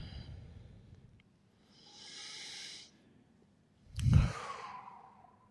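Slow breathing during a guided meditation: a long, soft exhalation, then after a pause a louder sighing breath with a snort-like onset, both close and with no talk.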